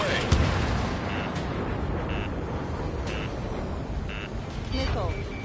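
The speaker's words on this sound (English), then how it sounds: "Missile away." Roaring rush of a jet fighter missile launch in the Ace Combat 7 flight game, a dense wall of engine and exhaust noise with brief beeping lock-on tones and radio voices over it.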